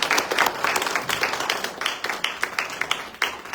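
An audience at a church gathering claps to welcome a pastor, a burst of dense applause from many hands that thins toward the end, no voices over it.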